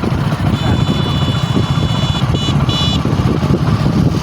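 A motorcycle rides along an unfinished road with earthwork still pending, its engine droning steadily and loudly close by, with a high whine in the middle of the ride.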